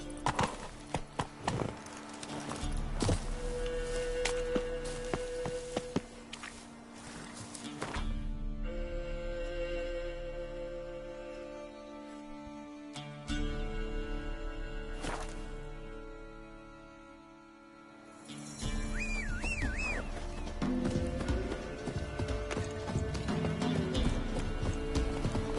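Hooves of the horse Roach clip-clop in a video game, rhythmic steps under game music and ambience, moderately loud, with pauses and changes of pace.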